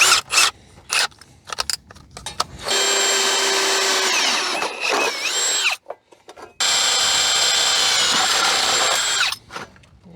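A cordless power drill drives bolts into a well fixture, with loud sustained whining bursts that rise and fall in pitch as each bolt seats, separated by short pauses and handling clatter.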